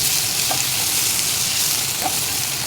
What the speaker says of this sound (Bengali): এবং এটা দিয়ে আমি একটু নাড়ি দিব।